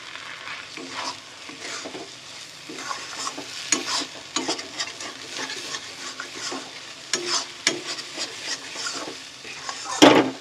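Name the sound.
stirring and frying chicken tadka with kasuri methi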